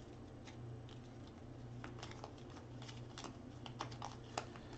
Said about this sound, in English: And we're going to shuffle this deck.